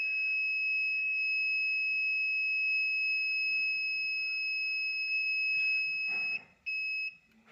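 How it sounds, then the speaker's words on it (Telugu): A fire alarm buzzer, triggered by a flame touching its sensor, gives a loud steady high-pitched tone that holds for about six seconds, then cuts out briefly and sounds again before stopping. "ఫైర్ అనేది టచ్ అవగానే బజర్ అనేది మోగుతుంది"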